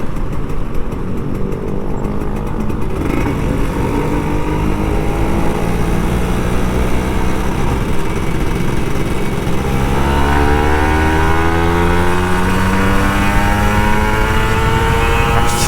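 A Kawasaki Ninja RR 150 two-stroke motorcycle accelerates on a quiet road in the Puri area, its engine note climbing loud and buzzy through rising revs with wind rush, no talk.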